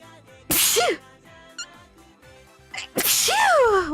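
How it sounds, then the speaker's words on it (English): Two loud, sharp sneezes burst out close by, separated by a couple of seconds of near quiet with small faint noises between them. "I'm gonna sneeze."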